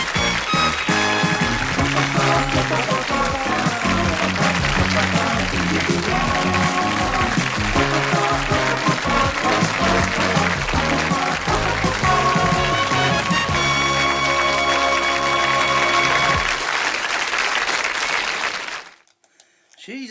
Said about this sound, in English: they actually do clap all the way through the end credits